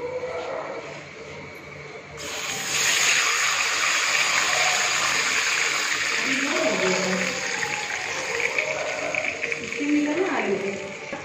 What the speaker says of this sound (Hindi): जीरा डालने के बाद अब हम इसमें डालेंगे पानी।